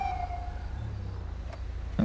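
Police car siren in the GTA 5 video game, a steady wailing tone heard at moderate distance over a low engine rumble, cut off near the end.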